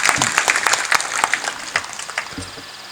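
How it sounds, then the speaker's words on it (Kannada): Audience at a public speech gathering bursts into applause, a dense, steady patter of many clapping hands lasting about three seconds, close and fairly loud with no voices over it. "ಅವರಿಗೆ ನಿಮಗೆ ಒಂದು ಚಪ್ಪಾಳೆಯನ್ನು ಕೊಟ್ಟುಬಿಡಿ"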